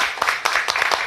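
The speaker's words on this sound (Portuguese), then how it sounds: "uma salva de palmas" A studio audience at the talk show "Conversa de Botequim" gives applause for interview guest Damião Nobre, a brief close burst of rhythmic hand claps repeating quickly over about a second.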